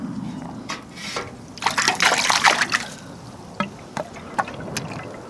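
Water trickles and splashes through a tube into a self-filling chicken watering station made from an old oxygen tank. It comes in uneven, close bursts that swell in the middle before thinning to scattered drips.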